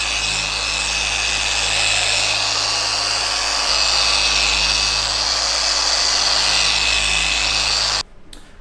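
A dual action polisher loaded with a fine Menzerna compound buffs the paint of an Audi RS5, giving a loud, steady whirring drone that runs unbroken for about eight seconds and then cuts off abruptly.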